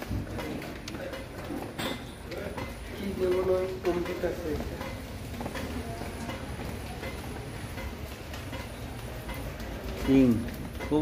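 Large pigeons, including king pigeons, cooing in a loft, soft throaty calls surfacing intermittently under ongoing conversation and a steady background hum.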